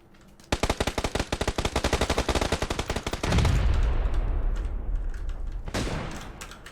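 Rapid automatic gunfire in the shooter game PUBG: Battlegrounds bursts out in a fast, loud string of shots for about three seconds, followed by a rumbling, reverberant tail and one more later shot.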